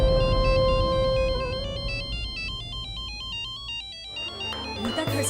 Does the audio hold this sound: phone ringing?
yes